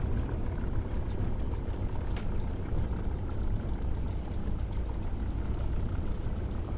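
Idling piston engine of a Spitfire LF IX warbird in the DCS flight simulator, a steady, loud, low rumbling drone holding constant throughout with no voices.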